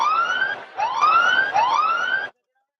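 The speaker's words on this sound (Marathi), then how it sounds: "सायरन वाजलं गेलंय" An electronic siren wails over a rural cricket ground during a tournament final, rising in three repeated upward sweeps, loud and steady, then cutting off abruptly into silence.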